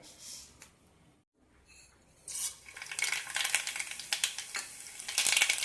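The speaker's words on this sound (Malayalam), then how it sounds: "കുക്കറിലേക്ക് മൂന്ന് ടേബിൾ സ്പൂൺ എണ്ണ ഒഴിച്ചിട്ടുണ്ട്" Mustard seeds splutter in three tablespoons of hot oil in a pressure cooker: quiet at first, then a rising run of sharp crackles and pops, close and fairly loud, with no voices.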